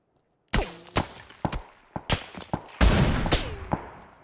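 Single gunshots fired one after another in PUBG, spaced roughly half a second apart, followed by a denser burst of fire. The shots sound fairly close against an otherwise quiet background.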